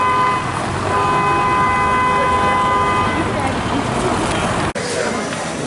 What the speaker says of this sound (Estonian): Siin ka ikka tuututavad.